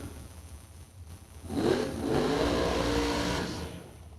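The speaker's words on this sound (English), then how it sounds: "And here come the dragsters." Dragsters roaring down a drag strip at a bracket race: a distant engine roar swells, holds loud for about two seconds, then fades, with a faint background rumble before and after.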